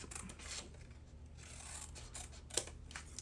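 Scissors snip through a paper corner tab, making faint close cuts and rustles with a sharper snip near the end.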